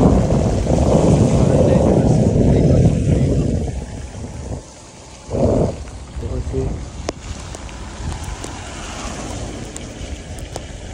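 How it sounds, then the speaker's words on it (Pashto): Light rain patters steadily, with a dense hiss for the first few seconds that then thins to a softer, quieter shower. "ډېر ښایسته ماحول دی او نري باران ورېږي"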